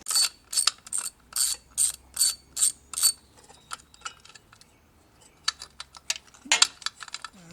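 A ratchet backs a Torx fastener out of the transmission pan on a Mercedes 722.9 transmission, giving a rhythmic run of crisp, close clicking bursts, then a quiet pause and a few more scattered clicks, with no talking.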